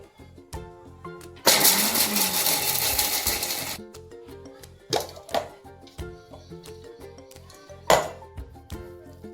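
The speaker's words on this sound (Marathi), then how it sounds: "इकडे शेंगदाणे मिक्सरला बारीक करून घ्यायचे." A mixer grinder coarsely grinds peanuts in a home kitchen: a loud, dense whir bursts in for about two seconds, then stops, followed by scattered knocks and clatter with a couple of shorter sharp bursts.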